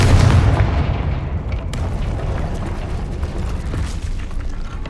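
Confringo blasting spell exploding in Hogwarts Legacy, a heavy booming blast followed by rumbling, crackling debris that fades over several seconds.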